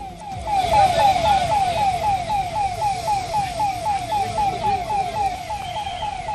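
Fire engine siren wailing continuously at the scene of a burning lorry, a loud, fast repeating up-and-down warble over rumbling traffic noise.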